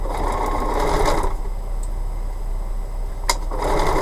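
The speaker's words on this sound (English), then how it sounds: "So we're gonna sew again." A sewing machine stitches a foundation paper pieced bee-themed quilt block, its loud rapid whirring running in two bursts with a short pause between, close and without talk.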